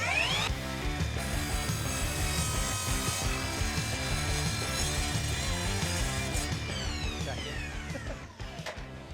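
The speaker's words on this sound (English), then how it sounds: "every miter saw needs to be able to cut some timber." A multi-material miter saw slices through a length of timber skirting, its loud motor whine and blade cut holding steady for several seconds before tapering off as the cut finishes.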